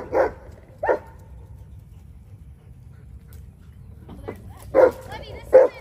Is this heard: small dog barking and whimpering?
yes